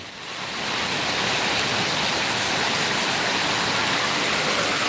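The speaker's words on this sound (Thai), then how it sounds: "ฝน ใหม่ฟ้าใหม่นะครับ มันแรงนะครับท่านผู้ชม" Heavy rain pours down in a broad, steady hiss that swells within the first second and then holds loud and unbroken, with no voices over it.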